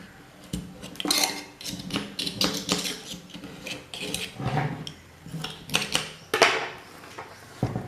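Scraping the hardened top layer off a homemade wax candle, a dry rasping and clinking run of close, uneven strokes with brief pauses between them.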